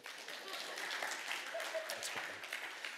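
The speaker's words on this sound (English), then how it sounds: "You can clap now if you want." A church congregation applauds during a Sunday service, a broad wash of clapping from a large crowd, heard at moderate distance and sustained for the whole moment.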